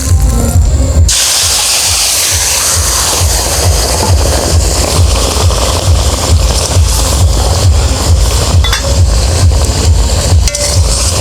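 Cumin seeds tempered in hot mustard oil in a village kitchen give a loud, steady sizzle and hiss, dense crackling spatter that continues without pause.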